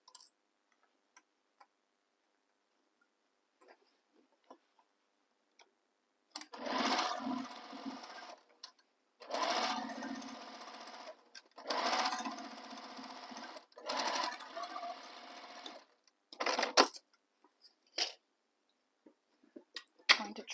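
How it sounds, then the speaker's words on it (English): Sewing machine stitching the second side of a Minerva tote bag, running in four sustained bursts of a few seconds each, separated by short pauses and scattered light clicks, close and alone without talk. "Sewing the second side."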